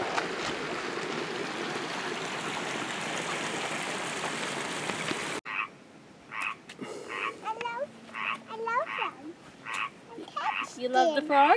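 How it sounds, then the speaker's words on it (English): Small green frogs croak at Isobel Lake near Kamloops, British Columbia, in a steady repeated rhythm of short calls, heard after several seconds of loud rushing wind or water noise, with a person's voice faintly mixed in. "You love the frogs?"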